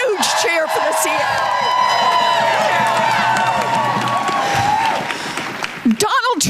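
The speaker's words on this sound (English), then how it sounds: "Let's give a huge cheer for the" A large rally crowd cheers and claps continuously at a political protest for the CFPB, loud sustained roar with whoops, fading before a voice resumes speaking at the end.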